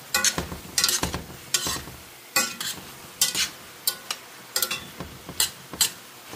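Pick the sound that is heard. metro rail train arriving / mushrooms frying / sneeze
mushrooms frying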